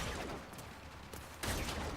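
Rapid gunfire in the Warframe Plains of Eidolon open-world shooter, a dense continuous burst of shots that swells louder near the end, with no talking.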